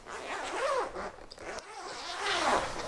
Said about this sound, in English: Now, over here you have a dual zipper.